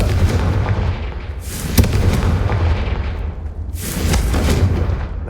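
A brazier blown apart by the Confringo spell in Hogwarts Legacy, giving loud booming blasts that roll out twice, close and heavy, with no talk over them.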